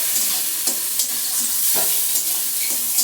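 Spiced masala for a fish head curry sautés in a pan, a loud continuous sizzle with periodic scraping stirs, close up and free of voices.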